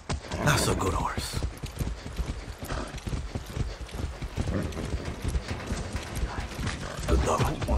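Rapid horse hoofbeats clip-clop steadily under a busy, dense mix of Far Cry 6 game sounds, with voices talking over them.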